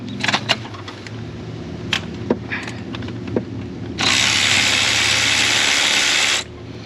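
A wrench working a 14 mm bolt off a third-generation Mitsubishi Montero during alternator replacement, with a few sharp metallic clicks and taps followed by a steady, loud whirring burst of about two seconds, close up, no voices.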